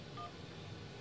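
A single short telephone keypad tone sounds on an automated phone menu, faint and brief near the start, then quiet line hiss.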